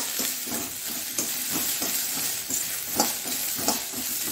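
Green beans stir-frying in a pan for Mangalore-style beans sukka, a soft continuous sizzle broken by repeated scraping stirs at an irregular rhythm, close and moderately loud with no talking.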